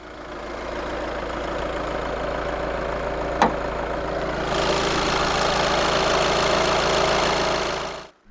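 A 2015 Volkswagen Jetta 2.0 TDI, a 2-litre 16-valve turbo diesel inline-4 with common rail injection, idles with a steady close drone and faint knock, one sharp click midway, then a brighter hiss rising before cutting off.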